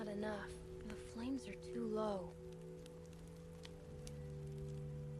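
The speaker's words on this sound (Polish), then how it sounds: "To wszystko przez ten deszcz." Steady rainfall in The Walking Dead video game forms a constant soft hiss, with a game voice speaking briefly over it near the start before the rain continues alone.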